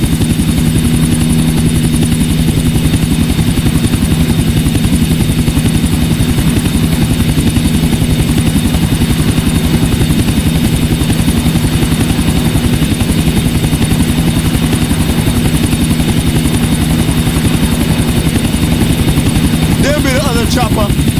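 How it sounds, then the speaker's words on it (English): Helicopter in Grand Theft Auto IV, a loud continuous rotor thump and turbine whine holding steady throughout, with brief speech near the end. "Chopper, stick to him, Nico."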